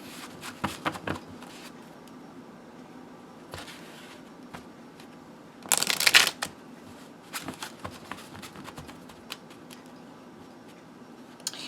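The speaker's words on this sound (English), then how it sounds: "Let me give this another shuffle." Soft rustling and light clicking of tarot cards being handled, with a brief, louder burst of riffling shuffle midway through an otherwise quiet room.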